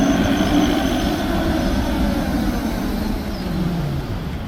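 A Tatra T6A5 tram running under thyristor drive gives off a steady rolling rumble with sustained electric whine tones that shift slightly in pitch, heard close and continuous without speech.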